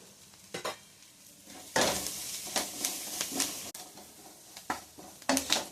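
Carrot and curry leaves sizzling in oil in a pan for egg fried rice, with steady frying hiss and repeated scrapes and clinks of a spoon stirring against the pan.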